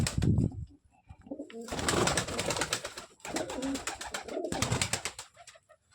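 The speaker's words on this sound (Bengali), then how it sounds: "দেখুন সবই ভালো ভালো পায়রা আছে।" Several pigeons coo in close, repeated bursts, deep rolling calls rising and falling in three distinct waves with short quieter gaps between, no voices over them.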